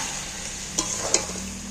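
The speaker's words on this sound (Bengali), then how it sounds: "এইভাবে ভালো করে কষাতে থাকবে।" Ground dry spices stir-fry with ginger-garlic water for a village-style chicken curry, a steady hiss punctuated by two quick spatula scrapes.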